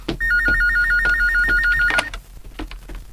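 Telephone bell ringing in a steady alternating two-tone trill, loud and close, running for about two seconds before stopping, with faint room noise afterward.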